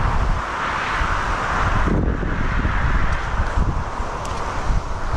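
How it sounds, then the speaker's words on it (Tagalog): Strong wind buffets the microphone outdoors in a farm garden during a typhoon, a loud continuous roar with gusty surges and rustling. "Tsaka hangin nga pala kalaban natin dito."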